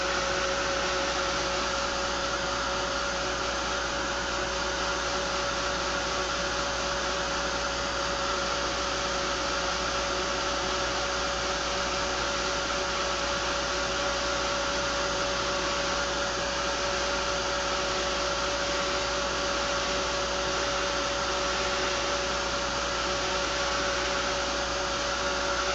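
A handheld hair dryer blows over wet paint on pop-art face tiles, a loud, constant airy roar with a steady motor hum that runs unbroken for the whole stretch, without speech.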